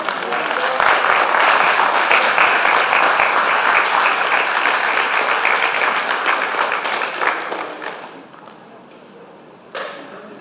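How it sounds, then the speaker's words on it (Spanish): Congregation applause for Jesus in a church, loud sustained clapping from a crowd that fades toward the end, followed by a brief clap burst. "Dale un aplauso a Jesús."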